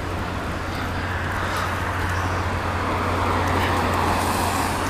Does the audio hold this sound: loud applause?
no